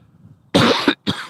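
A man coughs hard twice, close and loud, his throat tickly as he gets over the flu, with a brief pause between the two harsh bursts during a live carp-fishing session.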